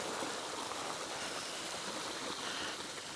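Deep floodwater flows across a cycle route: a steady, broad rushing roar like a stream, fairly quiet and unbroken, with no voices.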